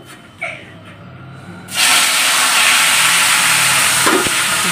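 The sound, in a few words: sizzling tadka, tempering spices in hot oil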